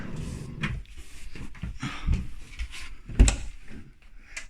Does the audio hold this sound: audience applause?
no